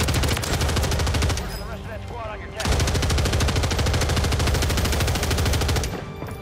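Rapid automatic gunfire from a Call of Duty Warzone match on Rebirth Island, dense continuous bursts that pause briefly around the middle before resuming just as loud.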